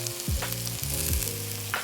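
Mushrooms and shallots cooking in a pan on the stovetop for green bean casserole, giving a steady close sizzle and frying hiss with a few soft stirring scrapes and clacks of a utensil.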